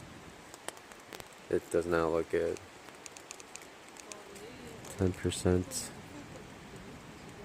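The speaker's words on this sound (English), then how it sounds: "now, but it's raining." Rain falls steadily on the Pacific Crest Trail, a soft, even hiss and patter that runs the whole time beneath two short bursts of someone talking.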